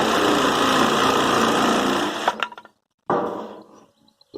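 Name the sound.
jigsaw cutting wood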